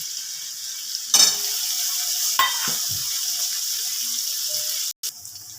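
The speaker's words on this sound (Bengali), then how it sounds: "এবার আমি পেঁয়াজ দিচ্ছি।" Onions hiss in hot oil in a pan where garlic has already fried, a continuous close sizzle broken by a few stirring strokes and a brief dropout near the end.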